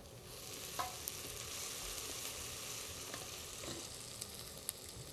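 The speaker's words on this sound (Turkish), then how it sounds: "Şimdi sarımsağımızı hazırladıktan sonra ekleyelim içine. O da soğanla beraber kavrulsun." Garlic and onion sauté in a pan for Turkish potato köfte, a steady close sizzle and fry with a few sharp pops and occasional spoon scrapes, no voices.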